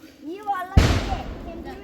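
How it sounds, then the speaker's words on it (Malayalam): A voice speaks briefly, then a single loud firecracker bang bursts out and rumbles away into a fading tail. "വെടി പൊട്ടുന്ന വിഷു കഴിഞ്ഞു ആരോ പൊട്ടിച്ചതാ"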